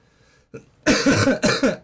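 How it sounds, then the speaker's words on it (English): A faint throat sound, then a series of harsh, close coughs in quick bursts from a person recovering from Omicron COVID. "As I cough a bit more."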